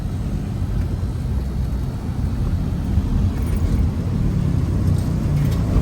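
A motor tricycle rolls along a road with a steady low rumbling engine drone and broadband road noise, continuous and moderately close throughout with no break.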